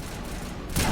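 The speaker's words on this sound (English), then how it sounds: "I should probably swap to a assault rifle." Rapid assault rifle fire in the Mass Effect video game, a loud dense burst that swells toward the end of a short moment with no talk over it.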